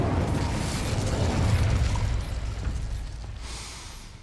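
Incendio fire spell cast in the Hogwarts Legacy video game, a dense rumbling whoosh of flame with crackling bursts that swells, then fades over a few seconds, alone without talk.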